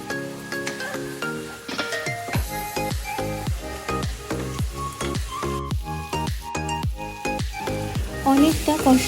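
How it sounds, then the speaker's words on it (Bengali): Onion being sautéed with cumin and coriander powder for a prawn onion curry, close and continuous sizzling with rhythmic, repeated scraping strokes of a spatula against the pan. "এবারে একটু জিরের গুঁড়ো, একটু ধনে গুঁড়ো দিয়ে ভালো করে কষিয়ে নেব"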